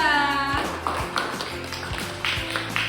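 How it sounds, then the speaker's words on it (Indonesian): Scattered, uneven claps from a small classroom of students applauding a student group after its poster presentation, with a voice at the start before the claps. "Beri tepuk tangan untuk kelompok 2."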